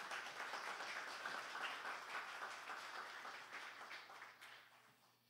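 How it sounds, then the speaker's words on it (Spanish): Applause from the audience at a Spanish-language book presentation event, steady dense clapping that is fairly faint and distant, fading toward the end. "Recibámosle con un fuerte aplauso."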